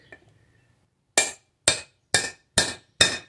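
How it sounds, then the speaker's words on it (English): Five sharp metallic strikes from a small sledgehammer on a Volkswagen MK2 Golf part land at an even, deliberate pace after a brief quiet start, each ringing briefly before the next blow. "This is my big hammer, or sledgehammer."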